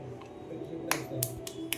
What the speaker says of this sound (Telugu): క్లాప్స్ కొట్టు.